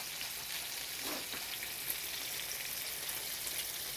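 A pot of water for spaghetti boils steadily, giving a soft, even bubbling and hiss that holds at a constant low level with no other sounds.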